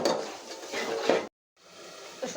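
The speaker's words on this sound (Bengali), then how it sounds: "এই মশলাটা আমি ভালো করে 5 মিনিট কষিয়ে নিব।" A spice paste of red chili, garlic and onion frying in a pan, a close dense sizzle with stirring scrapes that drops out briefly to silence, then resumes.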